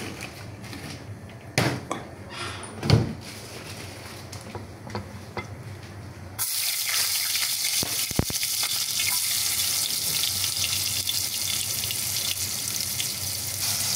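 Garlic, onion and tomato sautéing in a pan with chicken gizzards to come, first quiet scraping and a few knocks, then a loud steady sizzle taking over halfway and holding to the end.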